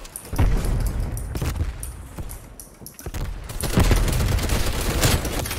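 Rapid bursts of gunfire crack out in a Halloween match of Call of Duty Cold War, loud and close, with a short lull before heavier, sustained shooting resumes.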